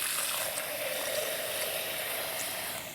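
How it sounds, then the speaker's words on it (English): Water pours steadily into a vase for a grocery-store flower centerpiece, a continuous close hiss and gurgle with no speech. "Then you're gonna go ahead and fill that up with water."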